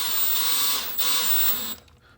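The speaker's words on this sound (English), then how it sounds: "I drive these ones in just with the drill because they're heavy" Power drill whirring steadily as it drives screws into an Arrma Typhon 3S RC car chassis, loud and close, with a brief dip in the middle before the motor winds down and stops.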